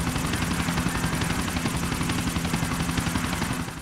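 A pursuing helicopter in GTA: The Ballad of Gay Tony thrums steadily and loudly with a rapid rotor chop, constant throughout with no talk, fading slightly at the end.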